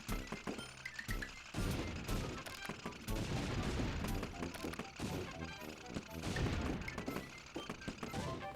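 Dense game audio from Wii Play Tanks with tank cannon shots and explosions going off in quick succession over busy background music, under a continuous wash of sound.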